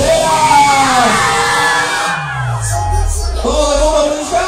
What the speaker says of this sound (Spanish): Y el grito de todas las mujeres solteras.